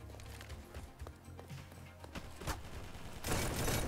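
Rapid gunfire from a gun in a Roblox Arsenal-style shooter game, a series of sharp clustered shots with a denser, louder burst near the end.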